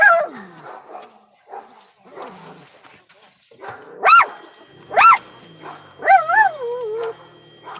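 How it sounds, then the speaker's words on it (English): A dog barks several times nearby in sharp, separate bursts, followed by a whimpering, yelping call, with faint outdoor background between the barks. "Oh my gosh, another dog."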